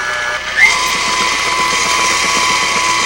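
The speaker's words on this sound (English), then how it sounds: "You can almost hear from the sound of the mixer when it's mixed, when it starts kind of slapping around like this" A handheld electric mixer beats white velvet cake batter with a steady, loud whirring drone and a faint rhythmic slapping of batter, after a brief pitch shift as the speed changes.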